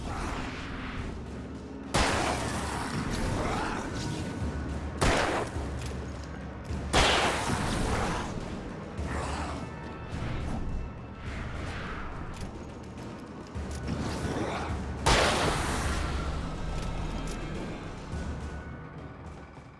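Gunfire in the video game Alan Wake aimed at a barrel: several loud, sharp shots and blasts spaced a few seconds apart, with crashing noise and the game's background sound in between.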